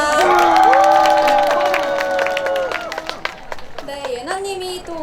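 A crowd claps and cheers at an outdoor youth day event in Yeouido Park after a singer's bright stage performance, loud and close, with sustained musical tones and shouts over the applause.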